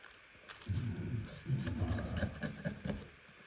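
A tool scrapes off the protective sealant layer on a gun part in a rough rasping rub, repeated in close back-and-forth strokes, quiet and near.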